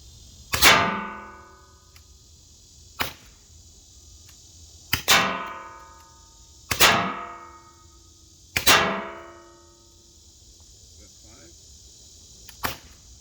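Umarex T4E HDR68 firing nylon riot balls at a steel baking pan: five sharp shots, irregularly spaced, each followed by a ringing metallic clang that decays over about a second, plus two fainter clicks.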